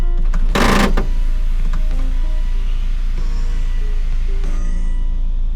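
A Volvo XC70 sunroof slides along its track, opening with a sharp mechanical clunk followed by a whirring electric motor hum and small creaks, heard close up with no speech.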